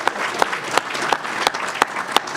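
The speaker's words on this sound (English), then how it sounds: "Give them a round of applause." Luncheon audience at a county budget event gives a round of applause, a loud, dense burst of clapping with a few sharp individual claps standing out.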